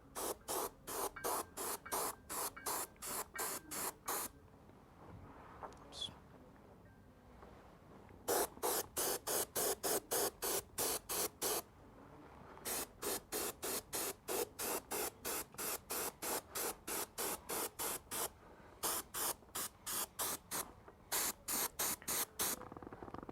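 An airbrush sprays white paint onto a scale model hull in repeated short hissing bursts, rapid pulsed bursts of spray in long runs broken by brief pauses, close and clear with no voices.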